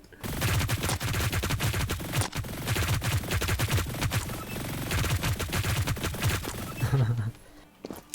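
Rapid gunfire in the Hyper Scape video game, loud, dense and sharp reports that run nearly continuously in quick bursts before cutting off near the end, including a shotgun.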